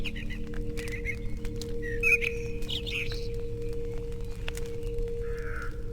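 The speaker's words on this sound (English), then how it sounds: "Why are there so many crows in the churchyard?" Crows cawing in a churchyard in the ghost-hunting adventure game The Lost Crown, several scattered calls over a steady low ambient drone.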